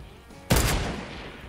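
A sudden loud burst of Fortnite gunfire, a sharp blast that rings out and decays into a sustained noisy tail.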